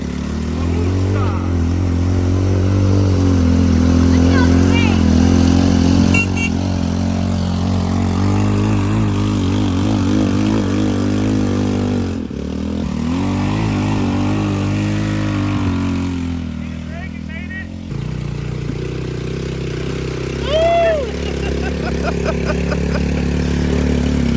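A 2019 XRX Trailmaster 300 off-road vehicle with its engine running and revving, a steady mid-pitched drone that swells and settles over about twenty seconds, with voices at times.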